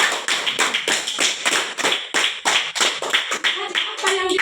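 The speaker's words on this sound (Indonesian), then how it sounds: "Tepuk tangan dulu untuk dia." A classroom of children applauds a classmate, a dense burst of rapid hand claps that is loud and close and lasts a few seconds, with a faint voice near the end.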